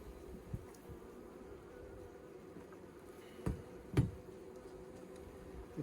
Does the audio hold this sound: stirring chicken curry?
no